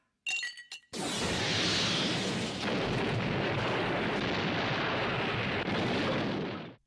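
Gunfire tears through a scene in the Trigun anime premiere, a couple of sharp metallic clinks, then a sustained roaring barrage of shots and shattering debris, loud and dense for several seconds.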